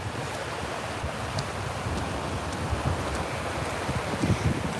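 Surf washes steadily onto a beach under strong gusting wind, with a dense, continuous roar and heavy wind buffeting on the microphone, no voices.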